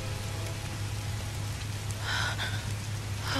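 Steady rain pattering in the 2013 Tomb Raider video game on Xbox 360, a continuous wash of falling drops with a low ambient hum underneath and a few brighter splashes near the end, no talking.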